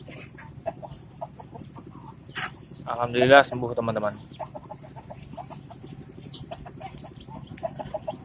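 Sick backyard chickens recovering from snoring-like breathing and diarrhea, clucking and squawking close by in a brief loud burst, with softer fowl sounds throughout beneath a person talking.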